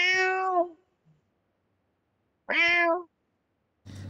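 Persian cats meow during a PUBG Mobile session: two clear, separate meows a couple of seconds apart, close and fairly loud, with silence between them.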